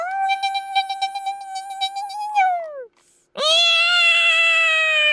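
A cat meows loudly twice, a long wavering cry followed by a short pause and a second drawn-out, insistent meow, close by.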